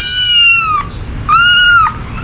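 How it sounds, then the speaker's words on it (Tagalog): Cats meow in a cemetery, two clear drawn-out calls close by, separated by a brief pause, loud against a low background rumble. "Kawawa naman yung mga pusa."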